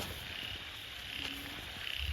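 Frogs croak after the first rain of the year, a faint chorus with a steady insect-like drone, quiet and distant outdoors.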